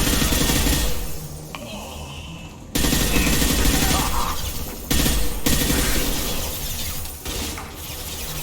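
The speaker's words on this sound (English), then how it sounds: "Taking heavy fire!" Dense, loud gunfire from the video game Mass Effect 2, with sustained bursts of rapid shots and blasts filling the whole stretch, broken by a few abrupt cuts.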